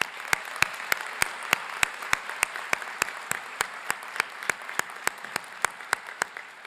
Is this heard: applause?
yes